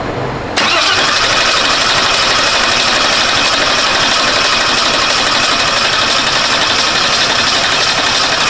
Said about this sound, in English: So we're gonna turn it over on the starter and see if each one moves